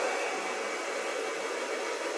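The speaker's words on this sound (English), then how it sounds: "It's tough, so it's going to be a little bit faster with a hairdryer." A hair dryer running on low heat and low power to warm hair clay, a steady, even blowing whoosh that holds constant, close and moderately loud with no talking.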